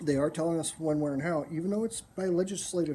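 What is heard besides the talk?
No distinct noise like a dog, phone or traffic.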